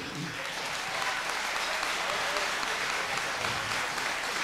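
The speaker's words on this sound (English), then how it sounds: "Give him another nice round of applause" Sustained, dense applause from a crowd, steady and loud throughout without a break.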